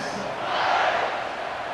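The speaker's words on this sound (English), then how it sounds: "this crowd is buzzing after that last score" A stadium crowd in EA Sports College Football 26 keeps up a steady, loud roar that swells slightly midway, a broad wash of noise from after a touchdown.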